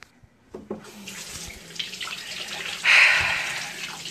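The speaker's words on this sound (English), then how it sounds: "Yeah, I need to wash my hand." A kitchen tap runs steadily for washing hands, its water hissing and splashing close by. The flow swells louder partway through as it strikes the sink, with no speech over it.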